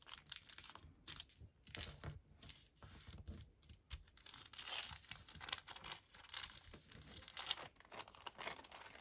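Paper journal page being folded and creased into a pocket, a steady run of close crinkling, crackling and rustling strokes lasting several seconds, fairly quiet and without talk.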